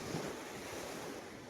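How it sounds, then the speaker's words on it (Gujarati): Cold wind blows hard at Veraval beach, a continuous loud rushing roar over the microphone mixed with the wash of surf, with no voices. "એકદમ ઠંડો ઠંડો પવન આવે છે"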